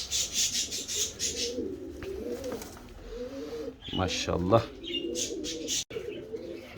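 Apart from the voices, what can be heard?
King pigeons cooing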